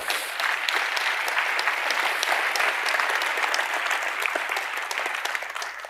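Audience at a tech conference talk bursts into sustained applause, dense clapping from a sizable crowd that stays loud for several seconds before tapering slightly.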